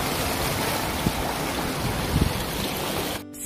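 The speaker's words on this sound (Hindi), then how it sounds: "ये जो पानी आप देख पा रहे हैं ये इसी ग्लेशियर का है" Glacier meltwater stream at high altitude on a Himalayan mountain trek, rushing steadily and close by as a constant broadband wash, with a couple of brief splashes before it cuts off abruptly near the end.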